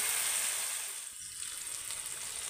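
Masala paste sizzles in hot oil while being stirred, a close, steady frying hiss with a short dip and soft scraping partway through.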